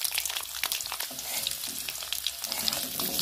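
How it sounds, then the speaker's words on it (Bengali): Onion, ginger, garlic, tomato and green chilli fry together in hot oil, giving a steady close sizzle with scraping stirs throughout and no talk. "এবার ওই তেলের মধ্যে পেঁয়াজ, আদা, রসুন, টমেটো, কাঁচা লঙ্কা একসাথে একটু ভেজে নিয়ে নেব।"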